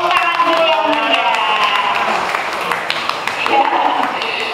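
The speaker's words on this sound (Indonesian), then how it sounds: "Tepuk tangan dulu yang mulia." An indoor audience at a teachers' showcase event claps and cheers, dense applause mixed with scattered voices and whoops, loud and sustained throughout.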